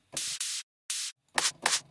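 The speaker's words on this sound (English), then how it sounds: "It's kind of like white noise, which I'm gonna just spread out over the stereo field." White-noise snare drum sample played in a drum production session: five short, bright hissing bursts, two back-to-back, a pause, one alone, then two more with added low body, loud and clean with no voices.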